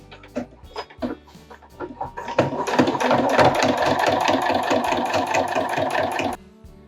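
A sewing machine fitted with a zipper foot stitches a zipper, starting with a few short stop-start bursts before running in a steady, fast mechanical clatter for several seconds, close and alone.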